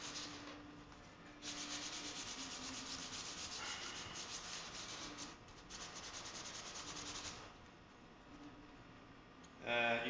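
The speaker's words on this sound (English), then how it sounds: "I might as well just sand the whole thing" Sandpaper rubs back and forth over the wooden bridge joint of an acoustic guitar in a steady, quiet, continuous scratchy rasp with brief pauses, ending in a louder clunk.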